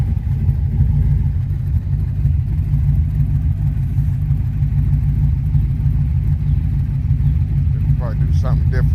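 A Chevy truck engine fitted with a BTR cam runs through its exhaust in a steady, close, deep rumble that barely changes, with a brief voice near the end.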